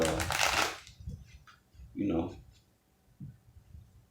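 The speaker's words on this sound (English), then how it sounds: "We'll shuffle a couple more times" A deck of tarot cards being shuffled gives a quick close riffle at the start, then a few softer card taps and slides follow with quiet pauses.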